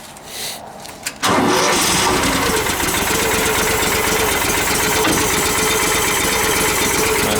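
A Terramite tractor engine cranks briefly and then fires after a battery charge, catching at about a second in and running loud and steady at a rough idle for the rest of the clip.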